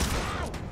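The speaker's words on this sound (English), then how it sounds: "Let's shoot the hunter." A brief, dense burst of gunshots fired at a hunter in the video game Mutant Year Zero, loud and continuous, with no talk.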